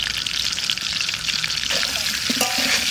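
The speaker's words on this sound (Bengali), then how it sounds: "আলুটাকে ভেজে নিই প্রথমে।" Lightly salted potatoes fry in a pan during village cooking on a stormy winter night, giving a continuous loud sizzle with stirring scrapes and clinks.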